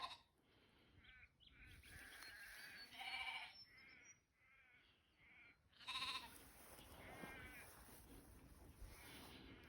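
Sheep bleat repeatedly while a dog herds them, several wavering calls rising and falling at close to middle distance over a continuous outdoor background with brief pauses.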